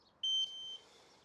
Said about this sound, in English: So there's the confirmation beep that we are armed